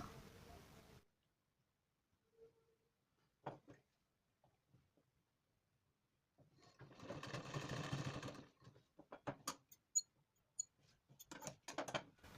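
Bursts of a sewing machine stitching fabric for a designer blouse, with short stops between runs and a longer run in the middle, close and moderately loud.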